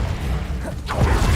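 Confringo spell cast in Hogwarts Legacy gameplay, a short loud whooshing burst with a low rumbling impact over a constant game background, under a second long.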